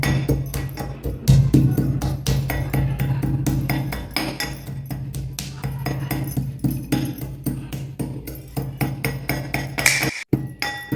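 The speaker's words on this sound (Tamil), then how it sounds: "இப்போ நம்ம அந்த உலக்கையில் வச்சு இடித்து எடுத்துக்கலாம்." Wooden pestle pounding mustard seeds in a mortar while preparing small onion thokku, a steady run of close, dull rhythmic thuds mixed with light clinks, continuing for the whole stretch with a brief pause near the end.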